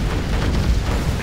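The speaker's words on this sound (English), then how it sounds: "Particle cannon activated." Particle cannon strike in the strategy game C&C Generals Zero Hour, a brief loud rumbling blast with a dense, roaring low-end burst and no speech.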